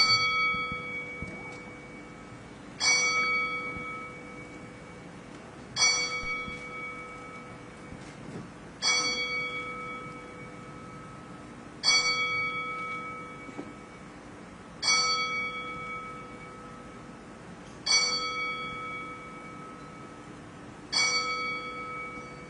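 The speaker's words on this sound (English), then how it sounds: "We will toll the bell 10 times" A memorial bell at a boxing press conference tolls slowly and evenly, each clear ringing strike decaying before the next about three seconds later, in a quiet room.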